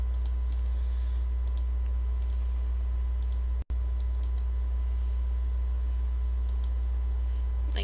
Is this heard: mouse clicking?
yes